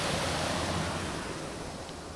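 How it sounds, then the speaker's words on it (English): Woodland stream with a small waterfall in LadyGrove Woods, Darley Dale near Matlock: a close, steady broadband rush of tumbling water, continuous and fairly loud, with no talking. "Lovely stream, look. You can definitely hear that."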